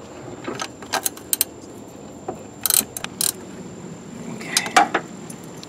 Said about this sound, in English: Last bolt on the compressor on the back here.